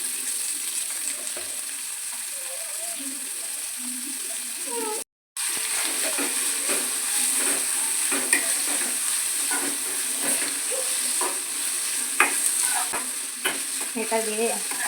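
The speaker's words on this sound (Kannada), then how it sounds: "ಇವಾಗ ಈರುಳ್ಳಿ ಹಾಕಬೇಕು, ಫ್ರೈ ಮಾಡ್ಕೊಳ್ಳೋದು." Onions sizzle and are stirred in a pan with green chillies and chana dal for a radish stir-fry, a steady close frying hiss with repeated scraping stir strokes and a brief gap midway.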